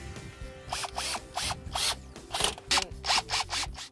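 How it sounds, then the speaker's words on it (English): A power drill drives screws through Bestop Supertop NX fabric into the metal windshield channel of a Jeep TJ. It comes in close, repeated short whirring bursts, roughly eight quick pulses separated by brief pauses, with no talk. "Now you just need to drill the fabric into the windshield channel."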